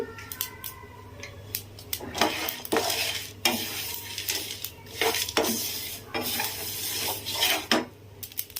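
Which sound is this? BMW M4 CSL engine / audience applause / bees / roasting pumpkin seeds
roasting pumpkin seeds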